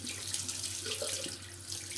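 Tap water runs steadily into a sink, a continuous broadband hiss at close range, used to warm the blades of a Parker 22R double-edge safety razor before shaving.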